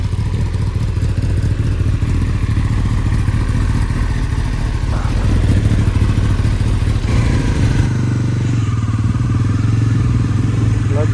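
A 2024 Bajaj Pulsar NS400Z motorcycle engine drones loudly and steadily while being ridden, with wind rush and a shift in engine note near the end as the rider changes pace.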